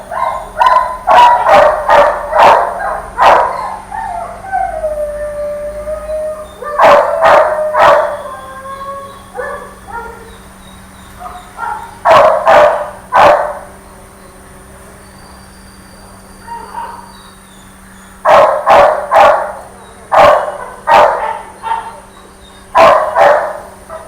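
Husky puppy barking, yipping and howling in repeated loud bursts of rapid high yaps, with short pauses between volleys, close and clear, plus a few thinner drawn-out whines.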